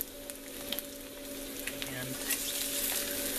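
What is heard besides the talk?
eggs frying in butter in a pan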